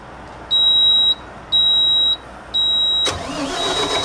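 A portable generator sounds three evenly spaced electronic beeps, then its engine starts with a sudden burst and settles into a steady running hum.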